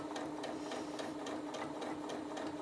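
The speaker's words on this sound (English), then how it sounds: "if you just place some pressure on the foot pedal, we'll be away and sewing a nice straight stitch" Janome Atelier 7 sewing machine running a straight stitch at an even pace, a steady close mechanical whirr with rapid regular needle ticks and no talking.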